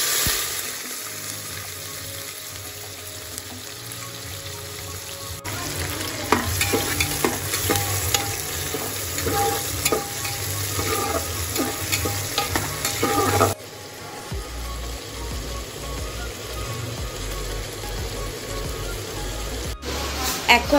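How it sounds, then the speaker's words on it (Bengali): Whole garam masala spices sizzle steadily in hot oil for a Bengali chicken dish, a dense continuous crackle that intensifies midway with stirring, with some background music-like tones and no clear talk. "এবার আমি এই গরম তেলের মধ্যে এই গোটা গরম মশলাগুলো ফোড়ন দিয়ে দেবো।"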